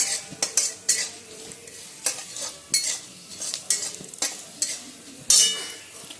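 Rice rava for upma dry-roasting in a pan while a spoon stirs it, giving repeated close scraping and rustling strokes in an uneven rhythm, with no voices.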